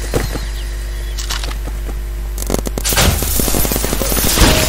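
Repeated shots from a paintball gun in the Roblox game Big Paintball, crackling in dense, rapid bursts that build toward the end, loud and close over a steady game background.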